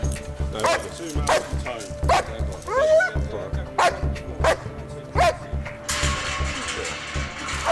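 A police dog barks repeatedly at a suspect found hiding in a garden. The barks are loud and close, with short gaps between them, and mechanical clanking and background noise run underneath.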